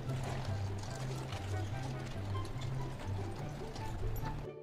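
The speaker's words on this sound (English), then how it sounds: "Horse loses control and crashes into crowds." Horse hooves clip-clop in a steady, repeating rhythm on a hard surface at a royal coronation procession, with a busy crowd murmuring in the background.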